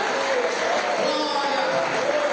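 A worship service congregation claps over lively voices and sustained tones, a dense patter of hands blending with singing or shouting.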